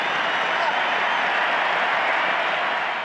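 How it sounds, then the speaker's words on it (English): A stadium crowd gives a standing ovation for Gold Star families, a steady, broad wash of clapping and cheering that holds even throughout before easing slightly at the end. "and a standing ovation"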